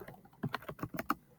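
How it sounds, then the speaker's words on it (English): A short burst of keystrokes on a computer keyboard, a dozen or so quick, soft clicks at close range with no voice. "I'm going to go right out here and type a Jewish religious"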